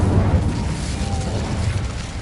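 An Incendio fire spell blasts in Hogwarts Legacy as a loud, continuous roaring whoosh of flame with deep rumble, holding steady for about two seconds.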